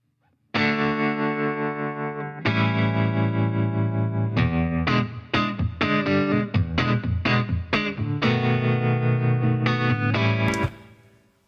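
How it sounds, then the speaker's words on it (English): Electric guitars played through a channel strip with chorus and distortion effects, loud sustained chords then a run of choppy, rhythmic stabs and short notes, thick and full before fading out at the end. "Let's just listen to these guitars"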